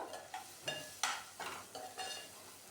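A spoon stirs softened tomato and turmeric in a pan for bhendi sabji, giving about seven soft scraping strokes in a regular rhythm over a faint sizzle, close and quiet.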